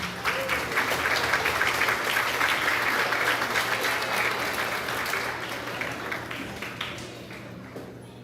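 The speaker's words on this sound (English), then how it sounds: "Let's give them a round of applause." Audience applause at a grades 4-6 school awards ceremony, a full round of steady clapping that gradually thins out and fades toward the end.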